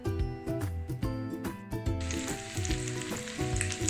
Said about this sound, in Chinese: 虾米炒香，加入肉碎、香菇。